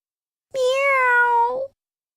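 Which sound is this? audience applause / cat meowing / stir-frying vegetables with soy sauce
cat meowing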